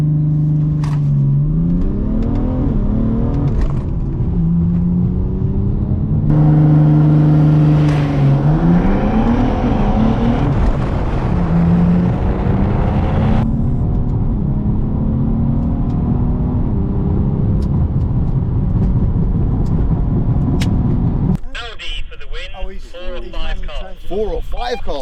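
Race cars, including an Audi, howl past one after another, each engine note rising and falling as it nears and fades, loud and close, with voices talking over the noise.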